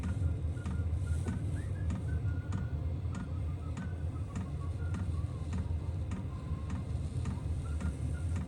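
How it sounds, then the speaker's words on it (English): Steady, regular ticking from a Maxpeedingrods diesel heater fuel pump installed in a small shed, a faint repeated tick over the constant blowing roar of the heater. "Pump ticking away."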